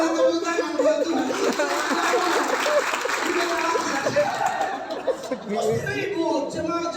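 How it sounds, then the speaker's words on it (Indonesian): A church congregation claps during a sermon, producing a fairly quiet, continuous patter of applause mixed with murmuring chatter and light laughter, with a voice speaking over it. "Tepuk tangan buat Tuhan."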